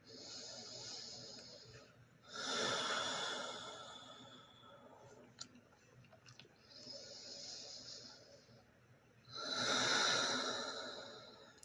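Slow, deep breaths in and out during a seated chair yoga session: long, airy inhales and exhales, alternating louder and softer, close and clear with no talking.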